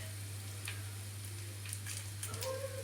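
Okra pieces frying lightly in a pan, giving a soft, steady sizzle with faint crackles and a few stirring clicks near the end, no voices.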